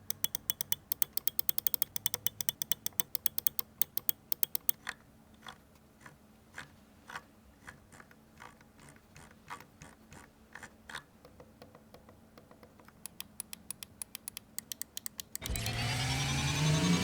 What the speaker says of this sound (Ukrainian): Давайте тепер запишемо кліки для того, аби ви самі все почули.